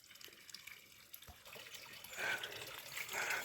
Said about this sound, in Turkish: Bu arada çeşme maşallah güzel akıyor yine. Şöyle akıyor.